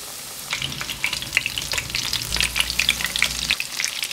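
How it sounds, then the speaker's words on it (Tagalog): Breaded chicken katsu sizzles and crackles steadily in a pan over medium heat, with a soft scrape of stirring in the middle, close and moderately quiet. "Pirituhin natin yung manok into medium heat hanggang sa mag-golden brown nito."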